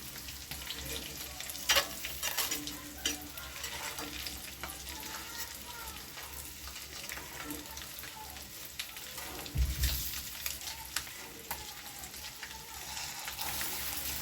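Eggs fry in a pan over a low gas flame for an anda masala curry, giving a soft, steady sizzle with light crackles and an occasional scrape throughout.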